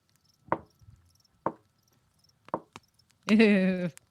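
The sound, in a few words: slow deliberate knocking on a door, demonstrated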